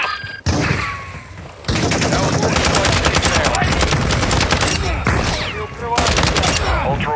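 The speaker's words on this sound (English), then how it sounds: "You are taking effective fire." Rapid bursts of automatic gunfire crackle and pop loudly in a video game firefight, with short gaps between dense volleys and some radio-style voices under the shooting.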